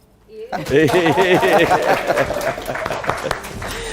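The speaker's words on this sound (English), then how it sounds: "You might want to clap for me" Studio audience at a televised presidential candidate interview claps, a swell of applause rising quickly and continuing steadily while someone speaks loudly over it.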